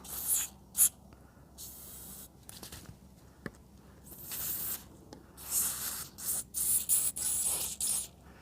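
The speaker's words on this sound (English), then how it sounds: "don't be afraid to use the aerosol can, because what that'll do, that'll blow in there and get everything out" An aerosol spray can blasts into a corroded fishing reel to clean it, giving several loud, hissing bursts of different lengths separated by quiet gaps and faint handling noises.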